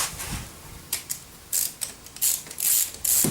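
Ratcheting clicks from a hand wrench tightening bolts on the intake manifold of a VE/VZ Commodore V6, short bursts of quick, close clicking separated by brief pauses, with no talking.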